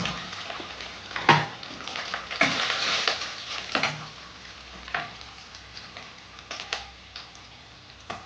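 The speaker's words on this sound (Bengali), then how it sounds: "এবার আমি পেঁয়াজ কুচিটা দিয়ে দিলাম" Chopped onion frying in a pan crackles nearby, while a spatula stirs and taps it in a string of sharp clicks and scrapes over a soft, ongoing sizzle. No one speaks.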